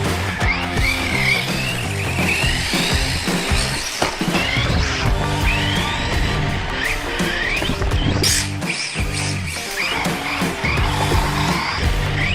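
A 1/24-scale RC stadium truck with an 8,000 kV brushless motor sliding about: a steady, dense whine with repeated tire squeals and skids, close and loud throughout, no voices.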